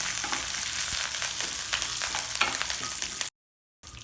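Peanuts, dals and curry leaves sautéing together in a pan give a dense, close crackling sizzle with stirring scrapes, then cut briefly to silence near the end.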